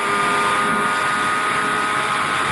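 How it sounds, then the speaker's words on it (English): A motorcycle engine roars at about 299 km/h in a steady, high-pitched whine with a rushing wind-like edge. It is loud and unbroken throughout. "That is the sound of the motorcycle engine roaring at 299 kilometers an hour."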